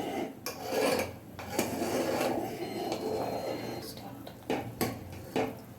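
Beetroot jam being stirred in a pan: a close, continuous rasping scrape of the spoon against the pan bottom, with occasional metallic clinks between strokes.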